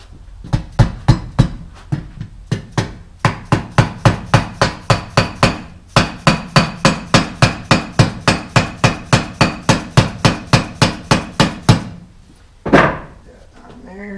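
A hammer taps a guard onto a 5160 spring steel longsword in a long, steady run of sharp, close metallic strikes at an even pace. The blows pause briefly partway through, and a scraping knock comes at the end.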